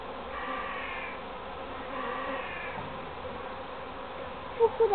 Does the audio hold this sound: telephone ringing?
no